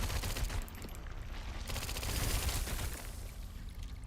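Rapid SMG gunfire in the video game Resident Evil Requiem, dense, loud repeated shots in steady bursts across the whole clip, no voices.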